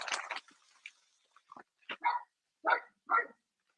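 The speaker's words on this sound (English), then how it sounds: "My dog, Max, he likes to bark randomly" A dog gives a series of short, sharp barks and yips close by, spaced irregularly over a few seconds with quiet gaps between.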